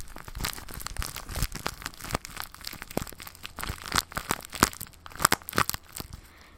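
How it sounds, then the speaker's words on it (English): A pipe tobacco package crinkles and crackles up close in a rapid series of sharp rustling bursts that grow louder toward the end, with no talking. "got some crinkling here"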